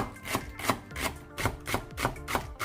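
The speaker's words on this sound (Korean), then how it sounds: "대파 한 대를 송송 썰어주세요" Sharp, regular knife chops as a green onion stalk is sliced into thin rounds on a cutting board, about eight evenly spaced strikes, close and clear with no talking.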